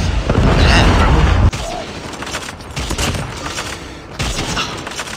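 Gunfire from the mobile shooter game Call of Duty Mobile sounds in loud, heavy bursts and booms, with a sharp cutoff partway through and further shots afterward.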